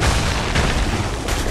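Cannons fire in Assassin's Creed 3, heavy booming blasts that blend into a loud, continuous rumble of battle noise.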